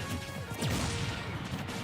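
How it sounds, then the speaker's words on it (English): Ice Climbers dash attack landing in a Super Smash Bros tournament match, a brief crunchy smashing hit effect over steady game noise and crowd ambience, lasting under two seconds. "Icy not able to escape just yet, but the dash attack gonna do it"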